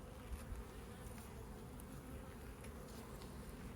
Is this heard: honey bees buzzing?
yes